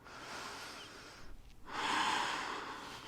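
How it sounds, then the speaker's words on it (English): Deep, slow breathing during a no-wrist yoga flow: a long airy breath, a brief quiet pause, then a fuller, louder exhale, close and alone with no talking. "One more deep breath here."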